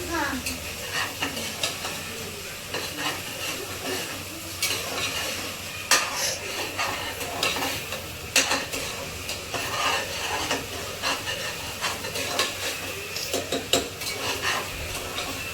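Masala paste cooks for a home pulao, its sizzle running under frequent scraping and clinks of a spoon against the pan, with a faint voice briefly in the background.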